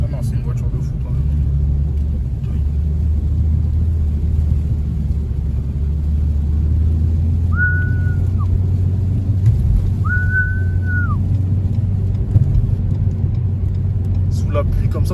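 A Renault Megane 4 RS Ultime driving in the rain, its engine a steady low rumble heard from inside the cabin, with two brief high electronic tones over the drone and no talking.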